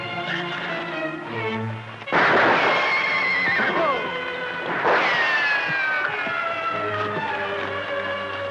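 A horse whinnies loudly twice in close succession over a tense Western chase with music underneath, the second neigh rising and falling before music carries on.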